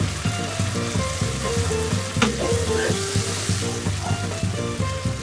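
Tinned plum tomatoes sizzle and simmer in a hot pan for a potato and peas curry, a steady loud frying hiss with soft bubbling throughout, no voices.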